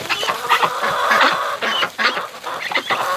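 A crowd of breeding ducks gathered outside a door quack and chatter continuously in a dense, close, overlapping chorus of squawks with no talk.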